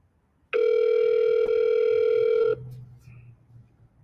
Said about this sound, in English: They ain't gonna answer the phone.